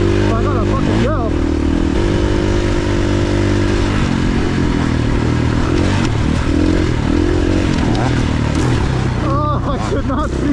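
Dirt bike engine at Dove Springs while riding off-road, close and loud with rising and falling revs and gear changes throughout, and a rider's voice shouting over it.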